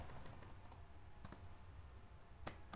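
Computer keyboard keys tapped while entering numbers into an Excel spreadsheet, a handful of sparse, faint clicks against a quiet background hum.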